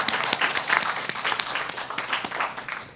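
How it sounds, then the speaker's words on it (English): Conference audience clapping for panelists at the close of a session, a fairly loud burst of many hands that thins and fades out. "Can we give them a big round of applause?"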